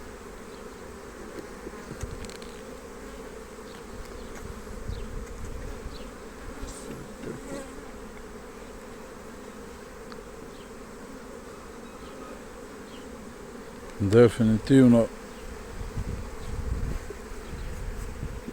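Honeybees hum steadily around hive frames during an inspection, a close, continuous drone, with a short burst of talk near the end.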